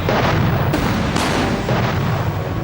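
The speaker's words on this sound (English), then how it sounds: "80 guns of Napoleon's Grand Battery opened fire." Napoleon's Grand Battery of massed cannons firing at the Battle of Waterloo as a loud artillery sound effect: thunderous overlapping booms, with sharper blasts standing out against a continuous rumbling barrage.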